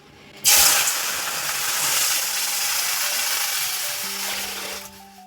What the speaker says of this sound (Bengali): এখন চলো আর কি ডালটার মধ্যে জল দিয়ে দিই